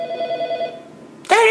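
A telephone rings in a detective video game, with steady repeated electronic tones that stop, followed by a louder burst of sound near the end.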